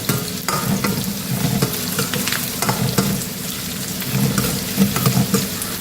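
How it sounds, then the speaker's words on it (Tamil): Onion, curry leaves and cumin fry in a pan for a prawn thokku, a crackling sizzle broken by frequent stirring scrapes and spatula knocks, close up with no speech. "இது நல்லா பொரியட்டும் வெறும் வெங்காயம் கருவேப்பில் சீரகம் தான் போட்டிருக்கேன்"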